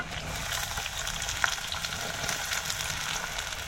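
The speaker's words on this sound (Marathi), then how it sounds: "आता आपल्याला ह्याच्यात कांदा टाकायचा आहे" Onion fries in oil in a pan for a dried-fish chutney, giving a steady, soft, even sizzle close by with no talking.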